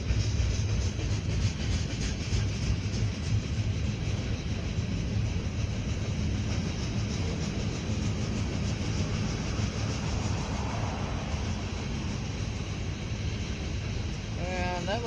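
CSX M424 freight train rolls eastbound at Pittsfield, Massachusetts, in a snowstorm, its cars passing in a continuous steady rumble with faint rail clatter, fairly close throughout.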